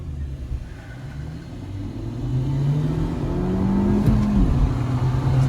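Hyundai Verna 1.6L and Renault Duster 1.5L launch side by side in a drag race, engines building from a low rumble to a rising, revving drone that swells louder over several seconds, with no voices.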